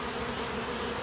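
Bees buzzing at a hive entrance fitted with a robbing screen, a continuous close, dense hum with no pauses.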